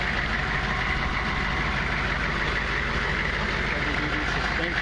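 The 6.5 liter diesel V8 of a 2001 AM General H1 Hummer Wagon idles close by in a steady, dense, rumbling clatter that holds without change for the whole clip.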